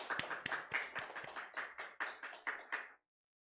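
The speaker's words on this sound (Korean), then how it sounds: "감사의 박수 한번." About a dozen quick, fairly even hand claps from a worship congregation, light and close, lasting roughly three seconds before stopping abruptly into silence.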